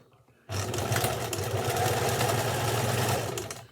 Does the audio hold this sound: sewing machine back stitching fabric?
yes